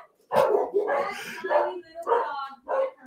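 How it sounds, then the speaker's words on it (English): A little dog passing by gives a few short, high yips and barks in quick bursts, close and moderately loud. "oh, there's a little dog going by."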